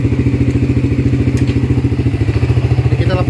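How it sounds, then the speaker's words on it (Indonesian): A Yamaha Vixion motorcycle engine runs close by in a steady, loud, rhythmic thumping idle, with a faint clatter as it is shifted into gear. "Jadi motor ini kalau kita hidupin, kita coba masukin gigi"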